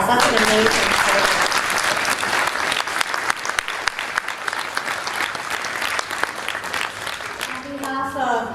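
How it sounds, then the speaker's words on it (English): A presentation crowd claps in sustained applause, dense and fairly loud throughout, with a voice speaking over the start and a speaker's talk returning as the clapping fades near the end. "I think that deserves another round of applause"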